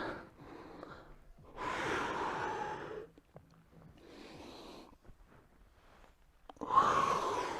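Deep audible breaths during a yoga workout: several long inhales and exhales of moderate loudness, alternating with quiet pauses, the last breath strongest, with no speech over them.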